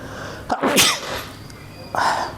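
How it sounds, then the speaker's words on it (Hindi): A person sneezes loudly and sharply after a quick intake of breath, followed by a short, breathy burst of noise a moment later. "बहुत ज़्यादा छींक आ रही है सर्दी की वजह से"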